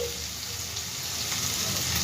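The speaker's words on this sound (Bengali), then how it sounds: "দেখো মশলাটা আমার খুব ভালো করে ভাজা হয়ে গেছে" Spice paste sizzles and crackles steadily as it fries in oil in a pan, a close, continuous hiss with no talking.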